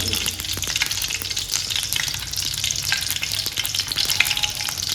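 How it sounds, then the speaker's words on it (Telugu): Cinnamon and cloves fry in hot oil for mutton curry, a dense, bright, continuous sizzle with a few stirring knocks, close up and steady, with no talking. "నూనె బాగా చూపెట్టిన తర్వాత ఇందులో మనం ఇందులో చెక్క లవంగా తీసుకున్న కదా వేయాలి"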